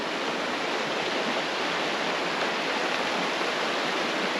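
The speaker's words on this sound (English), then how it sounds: "Every resident has private access to the Florida River, and check this out." The Florida River flows past Edgemont in Durango, Colorado, a steady, loud, close rush of moving water that holds an even hiss throughout with no voices.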